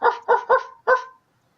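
A person imitates a dog barking with four quick, loud, close woofs, three in rapid succession and a fourth after a short pause, clear and alone.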